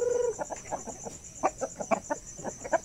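A chicken clucks in a series of short, uneven calls close to the microphone, a Basilan or Shamo gamefowl, with a steady high-pitched insect-like whine running behind throughout.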